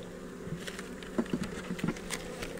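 Honey bees buzz around an open hive during a winter-prep beekeeping inspection, a soft, close droning with short, louder passes of individual bees near the microphone.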